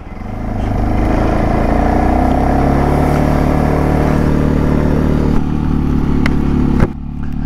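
A Segway Snarler AT6 SX ATV with a 570 cc engine pulling away on a late-winter trail, loud close engine drone rising steadily and holding, with a few clunks near the end.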